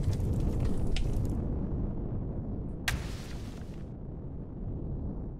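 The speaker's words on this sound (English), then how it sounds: "Did another bomb just hit near us?" A bomb from a Zirax air raid strikes nearby in Empyrion Galactic Survival, a loud close explosion with a sharp crack and rolling low rumble that slowly fades.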